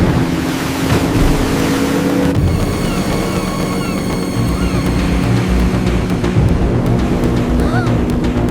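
A motorboat races across open water, its steady engine drone loud and close, with wind buffeting the microphone and splashing waves throughout.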